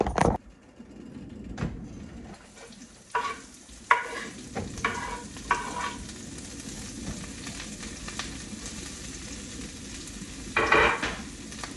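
Cabbage fries in cooking oil in a pan with a constant close sizzle, broken by a spatula scraping and stirring in bursts and a few sharp clanks of cookware. No one speaks.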